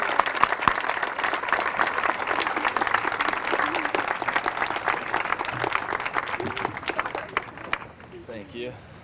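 A crowd applauds co-chairs at a Jack Sock Day celebration in Lincoln, with sustained clapping from many hands for about eight seconds before dying away, and a voice then begins talking.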